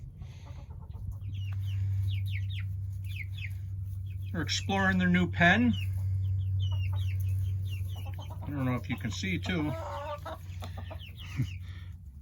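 Hens cluck and chatter in short bursts close by, mixed with steady low hum, while a person talks over them.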